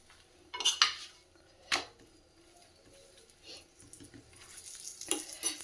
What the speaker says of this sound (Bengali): এখানে একটা পরোটা একটু গরম করে নেব